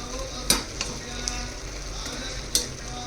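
Broccoli frying in a pan for a paneer curry, a low steady sizzle with a few sharp scrapes of a spoon stirring the pan, close and fairly quiet.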